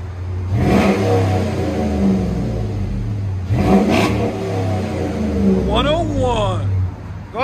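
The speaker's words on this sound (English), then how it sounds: "it sounds mean, even with a flow, with a 40 series Flowmaster" A 2007 Chrysler Aspen with a 5.7L Hemi V8 and Flowmaster exhaust idles with a deep rumble, then revs hard in two loud, close bursts, with voices talking nearby.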